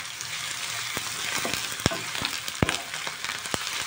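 Browned onions frying with garlic and ginger paste for chana masala, a steady close sizzle with sharp spatula knocks and scrapes as the mixture is stirred.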